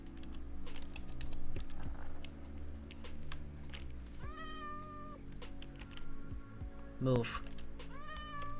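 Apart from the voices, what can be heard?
cat meowing in a block-building video game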